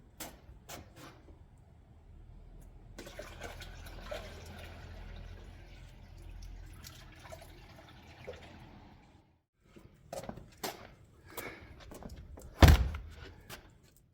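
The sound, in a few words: tub being filled with water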